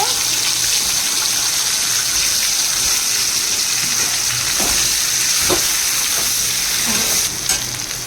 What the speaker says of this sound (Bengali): ভেন্ডিগুলো আমি ভেজে নেব।